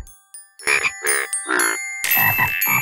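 A chorus of cartoon frogs from a Curious George video game, croaking in separate loud bursts, one after another, against faint chiming tones before the voices pile together.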